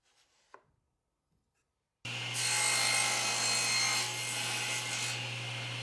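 A power miter saw on a sliding dovetail stop block setup starts abruptly and cuts through wood, with a loud steady motor whine and a rasping blade sound running for several seconds.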